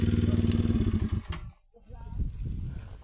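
A motorcycle engine drones close by for over a second, then fades as the bike moves off, leaving quieter rumbling and faint voices.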